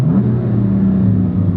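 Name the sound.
BMW M4 Competition engine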